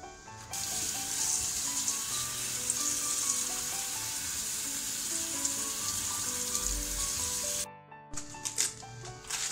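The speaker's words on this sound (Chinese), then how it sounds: "下面我把白菜洗一下。" Chinese cabbage washed under a running kitchen tap, a steady close rush of water splashing over the leaves for several seconds, then cutting off into a few brief wet handling sounds.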